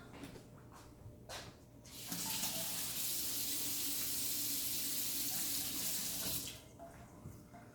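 Vegetables for a chicken and sweet potato soup are rinsed under a running kitchen tap, making a steady splashing rush of water that lasts about four seconds and then stops, with no talking.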